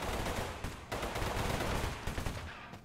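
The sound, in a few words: gunfire with strong recoil in Totally Accurate Battlegrounds video game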